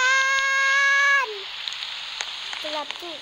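Steady rain hiss at night in the Roblox game Brookhaven fills the scene after a held musical tone cuts off, with a few soft chirping tones near the end.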